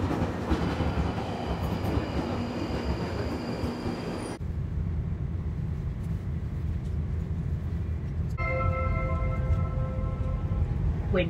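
Passenger train running on rails toward Watford Junction, a steady loud rumble with rhythmic wheel noise that shifts as the carriage moves, later joined by a high tonal whine; no one speaks.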